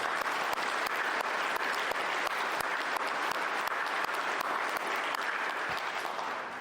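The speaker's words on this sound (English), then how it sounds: "Let's give them another round of applause." A banquet audience at a junior golf awards dinner claps for the award winners: dense, steady applause with sharp individual claps, close and loud, running unbroken for several seconds.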